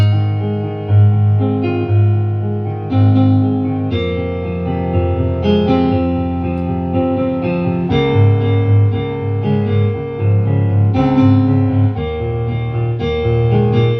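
A piano is played with both hands, with sustained chords under a melody line, continuous and fairly loud throughout with no talking.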